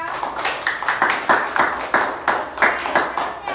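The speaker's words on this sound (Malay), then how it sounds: "Beri tepukan kat Anissa" A classroom of pupils in a religious-studies lesson claps together for a classmate, producing a steady, rhythmic patter of many hands with voices mixed in.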